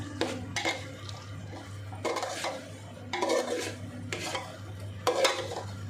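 Sabudana khichdi with pepper, grated coconut and coriander stirred in a metal pan, with rhythmic scraping strokes of a spoon against the pan about once a second over a low hum and faint sizzle.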